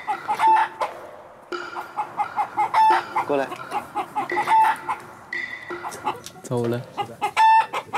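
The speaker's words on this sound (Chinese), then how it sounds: "公鸡教训他们别过去。" A rooster and hens in a garden give repeated sharp clucks and short crow-like calls in irregular bursts, loud and close, while people talk and call out in between.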